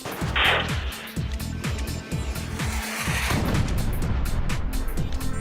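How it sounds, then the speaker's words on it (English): Apache attack helicopter firing a missile: a sharp burst at the start, then a continuous roaring rush with rapid repeated thumping underneath, loud and close throughout. "Once fired, the missile accelerates beyond Mach 1."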